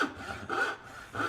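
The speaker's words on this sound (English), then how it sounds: "you can only use your dovetail saw to remove or to cut halfway through" Hand dovetail saw cutting wood for half-blind dovetails, rhythmic back-and-forth rasping strokes, close and fairly quiet, about three strokes in quick succession.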